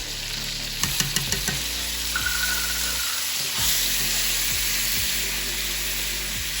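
A steak sears in a cast iron pan with garlic and rosemary, giving a constant close sizzle, with several sharp clicks and low knocks as the pan is handled; no talking.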